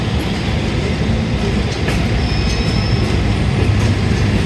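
A moving train runs through inner Lahore city on the Green Line, heard from onboard as a continuous, loud low rumble of wheels and carriages with light clatter and occasional faint squeals, no voices.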